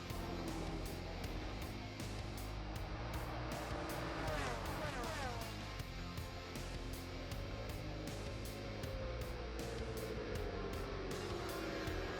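MotoGP racing motorcycles at the Shanghai circuit, with a steady loud engine roar, a high-revving pass sweeping through the middle and a lower engine tone easing off toward the end.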